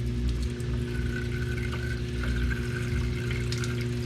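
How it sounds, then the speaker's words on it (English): Water draining from a Samsung 5.0 cu. ft. top-load washing machine after it is switched off, a steady low pump hum with rushing water, constant and close, no talk. "see the water coming out now."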